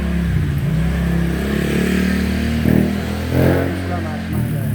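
A motorcycle engine idles and revs nearby, a steady loud rumble with two brief surges in throttle, while someone talks over it.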